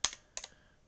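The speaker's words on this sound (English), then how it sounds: "If I can type." Two quick keystroke clusters on a computer keyboard, crisp clicks close by in a quiet room, separated by a short pause.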